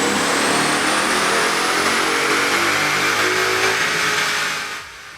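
A 2011-2014 Ford Mustang GT V8 engine revs hard on a dyno, one long loud sustained pull with rising pitch that eases off near the end, with no talk over it.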